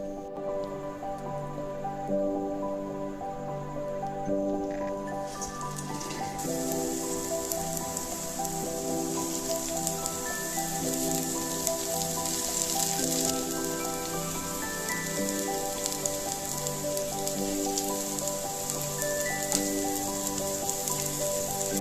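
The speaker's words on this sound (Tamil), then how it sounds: "இப்போ இது மாதிரியே எண்ணெயில் போட்டு பொரிச்சு எடுத்துக்கலாம்." Medu vadai, urad dal fritters, deep-fry in hot oil with a continuous crackling sizzle that grows busier and louder partway through, alongside a faint steady background hum.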